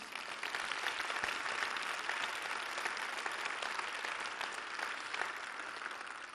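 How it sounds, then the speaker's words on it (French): Sustained applause from an audience at an EPFL alumni gala, steady and dense throughout with no pauses. "Donc j'aimerais que vous les applaudissiez très fort"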